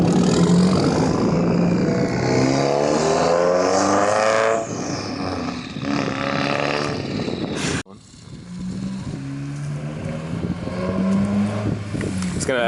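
BMW car engine revving hard through a loud exhaust, a roaring tone that surges and drops with a brief cut near the middle, heard close with people talking over it.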